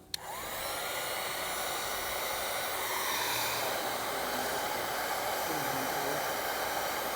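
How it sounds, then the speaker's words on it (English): Heat gun blowing a steady, loud rush of hot air to melt a heat shrink butt connector on trailer jack wiring, running continuously without pause and with no talking. "I'm going to come back here with a heat gun and get it nice and melted"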